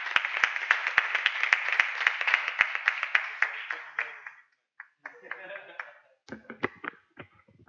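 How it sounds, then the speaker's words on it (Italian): Applause for Barbara at an inaugural conference, beginning with a few sharp, rhythmic near claps over a broader crowd clapping that stops abruptly, then scattered claps return mixed with voices talking. "Un forte applauso per Barbara e per tutti quanti voi"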